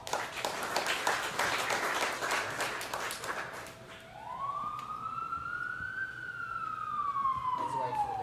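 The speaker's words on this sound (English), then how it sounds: "So give a round of applause." Crowd applause fills the opening seconds, then fades as a rising, wavering electronic tone takes over and carries to the end.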